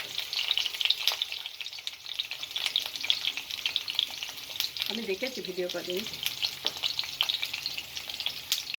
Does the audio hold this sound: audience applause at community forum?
no